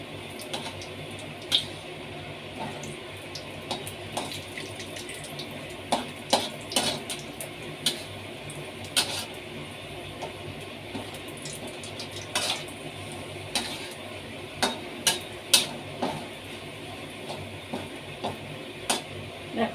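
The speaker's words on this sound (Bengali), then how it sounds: "পাঁপড়টা ভেজে নিচ্ছি ভালো করে।" Papad frying in oil in a pan, a faint sizzle under repeated scraping and clinking as a utensil turns and presses it, with irregular sharp ticks throughout.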